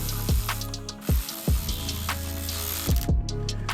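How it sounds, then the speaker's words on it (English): Ratchet turning an E6 female Torx socket to remove small fasteners during an N55 valve cover replacement, several short close clicking bursts spaced irregularly, alone without talk. "We're going to use an E6 female Torx socket."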